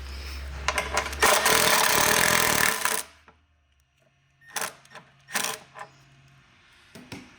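A hand tool loosens and removes a 10mm bolt from the MAP sensor on the airbox of a Patriot Boost engine: a dense run of rapid ratcheting clatter, then a pause and a few short, separate metallic clicks and scrapes close by.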